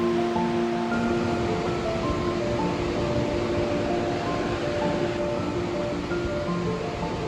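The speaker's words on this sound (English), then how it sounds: "we began to hear the river thundering above us again as we approached Nevada Falls" The Merced River rushing near Nevada Falls in Yosemite, a constant dense roar of whitewater that stays even and full throughout, with no one talking.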